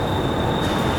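A Houston METRORail Purple Line CAF Urbos light-rail train rolls into the station, a steady close rumble with a faint high squeal from the wheels and no voices over it.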